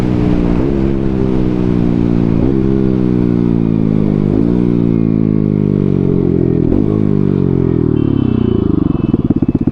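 Two motorcycles, a Bajaj Pulsar NS200 and a Yamaha R15 V4, accelerate hard in a drag race, engines roaring loud and close through repeated rising gear-change sweeps with no talk.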